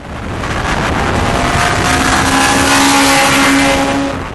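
A modified 2001 Acura Integra Type R with a JDM 2-liter bored and stroked block, its engine roaring steadily and loud throughout, with a sustained high tone that rises slightly as it holds revs.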